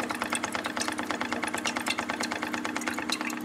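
An IKA Vibrax VXR orbital shaker runs at low speed, shaking a capped 1 liter bottle of liquid, giving a steady, rapid rhythmic rattling hum that stays close and even throughout with no talking.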